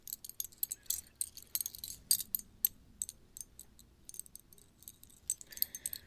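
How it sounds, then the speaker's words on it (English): Small earrings jingling and clinking close by in soft, scattered bursts of bright metallic tinkles, quiet and with no voices. "And then I brought back our earrings."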